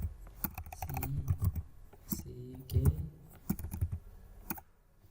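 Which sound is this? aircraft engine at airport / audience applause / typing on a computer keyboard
typing on a computer keyboard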